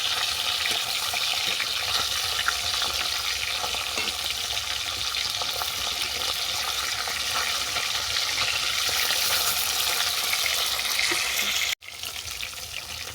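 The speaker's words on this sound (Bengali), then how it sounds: "মাছের এক পিঠ ভাজা হয়ে গেছে, অপর পিঠটাকে আমি উল্টে দিলাম।" Fish turned over to fry on the other side in hot mustard oil keeps up a constant loud sizzle and hiss that is briefly cut off near the end, and no one speaks.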